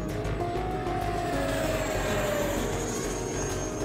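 Steady whine and rushing roar of an E-Flite F-16 Thunderbirds 70mm RC electric ducted-fan jet flying slow rolls, a continuous loud pass with a gently shifting pitch and no talking.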